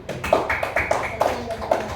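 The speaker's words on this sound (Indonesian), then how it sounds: "beri dulu tepuk tangan" Brief, scattered hand claps follow a group presentation in a classroom, several separate sharp claps in an uneven rhythm over a background of voices.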